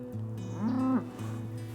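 A calf or cow on a dairy farm moos once, a loud, close, drawn-out low call that rises in pitch and breaks off, set against steady background noise with no talk.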